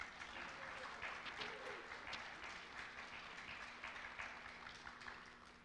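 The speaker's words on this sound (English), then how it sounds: "Can we have one more round of applause for those students?" An audience at a high school winter band concert claps warmly after the concert band's performance, dense sustained applause at moderate distance with a faint murmur underneath.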